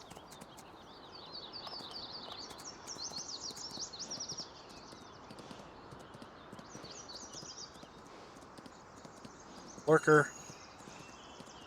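Horse hooves clip-clop in Farming Simulator 19, a steady quiet rhythm of hoofbeats alongside faint birdsong, with a short louder burst near the end and someone speaking briefly.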